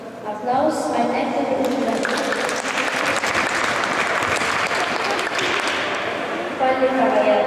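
An audience at an award ceremony for a 2011 youth competition breaks into sustained, dense applause that holds steady for several seconds, with a voice speaking over the clapping.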